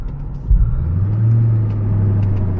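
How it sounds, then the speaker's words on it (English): Low, steady rumble of a supercharged V8 in a 2004 Mystichrome Mustang Cobra SVT heard from inside while driving, with a brief thump and a smooth rise in engine drone that then holds level. "And the sound of it is just, can't beat it. Can't beat that supercharged V8."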